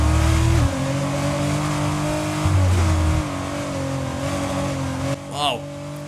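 F1 race car engine in the video game F1 23, a high screaming note that drops with quick downshifts and climbs again, loud and close, with a short sweeping whine near the end.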